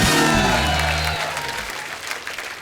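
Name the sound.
studio audience applause for a guest poet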